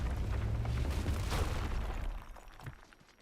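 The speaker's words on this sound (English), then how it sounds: "I'll use the rock explosion" A rock explosion ability in the video game RuneScape Dragon Wilds lets off a deep, rumbling blast that holds for about two seconds and then fades out, with a faint thud near the end.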